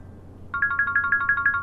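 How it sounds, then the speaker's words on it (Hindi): Out of near silence, an electronic phone ringtone starts up: a fast, steady pulse of bright trilling beeps repeating evenly. "रूना का फोन है।"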